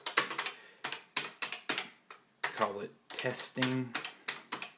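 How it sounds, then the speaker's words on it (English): Keys tapped on a CoCo 3 computer keyboard while a small program is entered, bursts of close, quick clicking in short runs separated by pauses, with someone speaking between and over the typing. "we'll type in a small, very small program"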